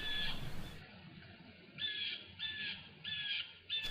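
Several loud bird calls repeat outdoors in bursts, clear high squawking or cawing cries that come and go against a quiet background.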